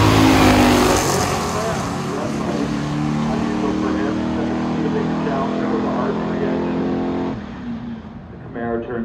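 A 1969 Camaro with a 427 L72 engine at a pure stock muscle car drag race, loud roaring engine noise that holds steady and then fades as the car pulls away, with a voice talking over it.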